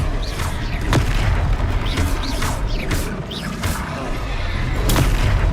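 Spell blasts from the Hogwarts Legacy video game sound as muffled booms and whooshing bursts, repeated several times over a rumbling combat background.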